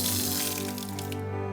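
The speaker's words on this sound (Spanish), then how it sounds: "Agua natural en esta fuente." Natural spring water runs steadily from a village fountain in Polop on the Costa Blanca, a close, continuous splashing stream with a faint low hum beneath it.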